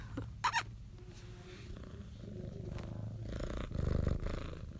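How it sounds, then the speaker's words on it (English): A cat purrs softly and steadily up close, with a few brief clicks and rustles near the start. "my cat is here"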